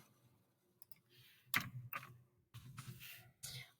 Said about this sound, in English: So I'm going to type in that answer.